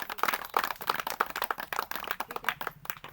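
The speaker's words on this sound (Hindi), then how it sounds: "एक बार अपने लिए जोरदार ताली बजाइए आप लोग।" Audience clapping at a talk in Pratapgarh, Uttar Pradesh, a brief burst of loose, uneven claps from a small group heard close and fairly quiet, with no speech over it.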